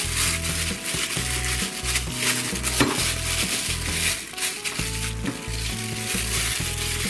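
Pork being mixed with a marinade of soy-based sauce while a pan sizzles loudly and steadily nearby, with repeated scraping and stirring sounds, close and continuous, no voices.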